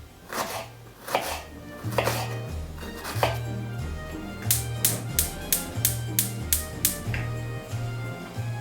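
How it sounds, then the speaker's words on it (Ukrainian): Sharp knife chops through an onion on a cutting board, first spaced strokes then a quick even run of cuts, close up, with soft background music. "Також нарізаю одну цибулю."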